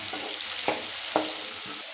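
Tomatoes and chana dal sautéing in a pan for mint chutney, with a steady low sizzle broken by three or four distinct scraping stirs of a spoon, close and alone.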